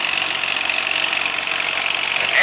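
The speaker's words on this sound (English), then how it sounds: "Eddie Prale, you be a little Spring Lake Manitou tractor right here." Small antique Spring Lake Manitou UB tractor engine at a fall festival antique tractor pull, a steady, loud, continuous mechanical roar that holds even throughout and swells slightly at the end.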